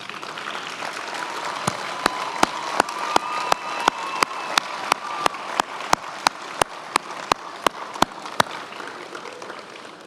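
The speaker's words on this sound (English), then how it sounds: "give them a round of applause for the help that they've given you" Graduation ceremony audience applauding families, a broad steady wash of many hands clapping from a large crowd, with sharp regular clicks punctuating it.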